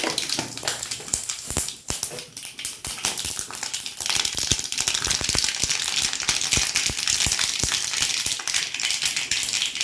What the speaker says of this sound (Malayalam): കടുക് ഇട്ടെടുക്കാം